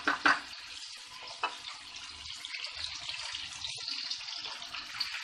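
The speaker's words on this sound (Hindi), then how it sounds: "इस तरह हमें इसे 3 से 4 मिनट फ्राई करेंगे।" Chicken pieces fry in a pan with a steady, moderately loud sizzle and a few sharp pops near the start.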